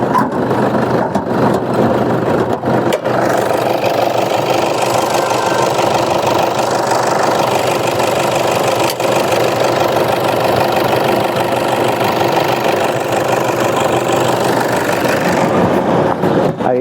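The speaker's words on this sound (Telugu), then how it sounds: "ఇంజన్ కూడా ఒకసారి చూపిస్తాను మీకు స్టార్ట్ చేసి" An engine runs steadily at idle after starting, a continuous loud mid-range rumble with a slight knocking texture that holds evenly for about seventeen seconds, with no voices over it.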